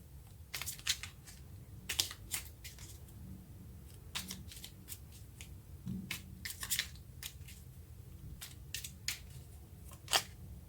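Tarot cards being shuffled and drawn, giving faint, quiet papery flicks and snaps scattered irregularly over a low background hum, with no voices.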